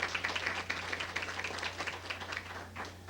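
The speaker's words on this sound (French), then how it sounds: "On l'applaudit, s'il vous plaît, ce musicien-là également." Scattered, fairly faint clapping from an audience greeting a guitarist, steady for about three seconds over a low constant hum, with no one speaking.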